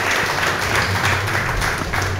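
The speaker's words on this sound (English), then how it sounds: "Please bring your hands together in a big round of applause once again" An audience at a temple seva offering event applauds, a full continuous round of clapping with a low rumble underneath.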